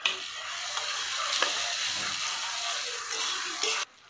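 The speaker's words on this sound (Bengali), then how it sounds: "রসুনটা হালকা ভাজা হয়ে গেছে, টমেটো দিয়ে দিচ্ছি" Garlic, ginger paste and tomato fry in a pan with a bright continuous sizzle and a few stirring scrapes, close up, before the sound cuts off abruptly near the end.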